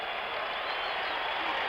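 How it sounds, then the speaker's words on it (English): A basketball arena crowd at Game 6 of the 1977 NBA Finals, 76ers at Trail Blazers, roars and claps in a dense, steady wash of sound. "Listen to the crowd."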